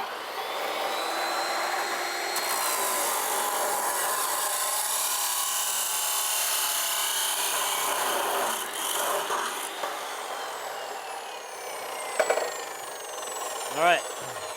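A power saw cuts through steel bumper tubing on a truck in a workshop, a loud, steady grinding whine that runs almost without a break for about twelve seconds before winding down, followed by a couple of brief knocks.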